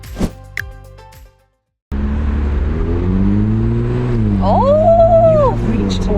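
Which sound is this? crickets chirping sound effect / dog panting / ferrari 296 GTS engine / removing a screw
ferrari 296 GTS engine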